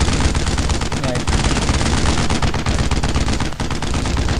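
Dense, loud bursts of rapid machine gun fire in the World War II shooter Brothers In Arms: Road to Hill 30, near and almost continuous, with gameplay voices underneath.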